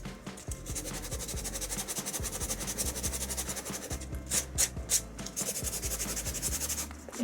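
Wax being rubbed onto a wooden box to build a demolition-style patina, a steady close scratchy rubbing with a few sharper strokes, heard on its own.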